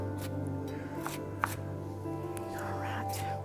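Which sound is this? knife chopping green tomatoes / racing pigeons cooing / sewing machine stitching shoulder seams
knife chopping green tomatoes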